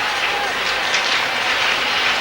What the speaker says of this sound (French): Et le public qui donne de la voix et des mains pour applaudir les Mauves